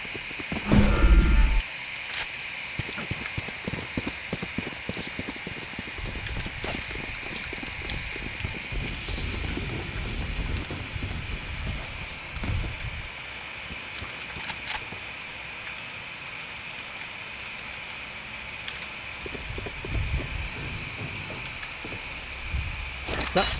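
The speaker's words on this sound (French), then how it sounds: "C'est son de mon ordi en fait qui est pris par le micro." A computer's electrical noise picked up by a microphone during a game tournament voice call: a steady high-pitched whine with crackly hiss runs the whole time, under faint, indistinct voices.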